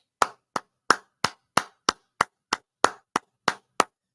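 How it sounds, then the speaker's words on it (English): A single person claps twelve times, firm and evenly spaced, each sharp smack standing alone in an otherwise quiet room with no talk. "That's stronger than a golf clap."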